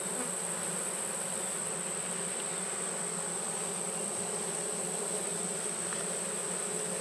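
Honey bees in a bee yard make a continuous dense buzz, loud and close, steady for the whole stretch with no talk over it.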